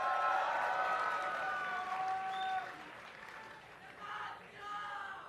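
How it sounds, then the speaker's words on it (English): Audience at an esports tournament, the IPL 4 event in Las Vegas in 2012, cheers and claps for a team, a loud crowd swell that eases off midway and then rises again. "let me hear you guys in the audience"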